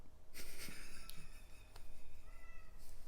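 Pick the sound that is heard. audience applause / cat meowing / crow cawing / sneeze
cat meowing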